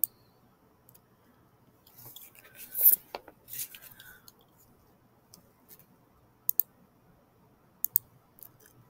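Computer mouse clicks on a web page button come as a handful of sharp, close, quiet clicks scattered through a mostly silent stretch.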